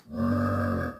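One Call of Duty zombie grunt sample, a deep, throaty, burp-like tone held steadily for under a second, played alone and up close.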